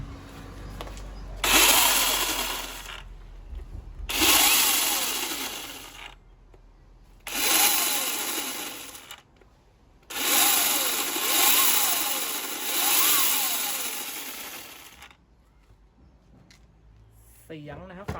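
A small DeWalt cordless chainsaw motor whines up to a loud, steady buzz in five separate bursts, each lasting a couple of seconds with quiet pauses between.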